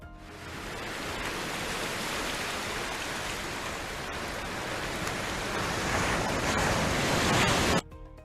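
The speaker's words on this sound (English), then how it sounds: "that's the sound of ocean waves" Ocean waves roll and wash in a continuous broad surf roar, steady and full with a slight swell toward the end before cutting off abruptly.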